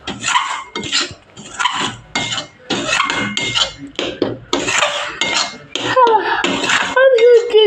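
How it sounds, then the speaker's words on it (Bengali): A spatula scraping and clattering in a pan while coconut naru is stirred with cane jaggery, a busy, uneven rhythm of close metallic scrapes and knocks. "এবার ভালোভাবে অনেকক্ষণ ধরে নেড়ে নিতে হবে, যতক্ষণ না ভালো পাক আসে।"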